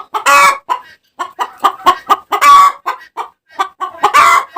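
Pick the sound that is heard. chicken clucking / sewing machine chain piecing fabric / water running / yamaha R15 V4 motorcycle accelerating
chicken clucking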